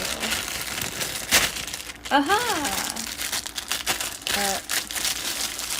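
A plastic bag crinkles and rustles while being handled before Kewpie mayo is brought out, under close talk and chatter, with a burst of crackling near the start and short vocal exclamations.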